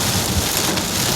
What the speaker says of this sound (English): We are having a storm. Take a look. This is this is rain.